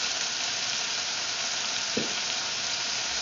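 Aubergine and string beans fry in a frog legs stew in peanut butter sauce, a steady dense sizzle throughout with one brief stirring scrape midway, close and even.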